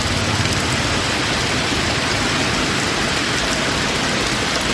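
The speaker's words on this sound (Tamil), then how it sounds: "சுற்றுவட்டார பகுதிகளிலும் பலத்த காற்றுடன் மழை பெய்தது." Steady, dense rain pours with strong wind across the suburbs around Chennai. The hiss is loud and continuous throughout, with no voices.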